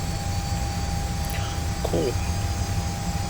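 Twin jet engines of a Hawker 850XP business jet in the Prepar3D flight simulator, a steady broadband whine and rumble running throughout with a faint tonal hum, a brief voice heard over it.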